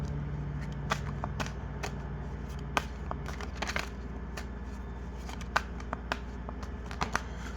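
Tarot cards being shuffled close up, a steady papery rustle broken by frequent sharp snaps and flicks spread irregularly across several seconds, under a constant low background hum.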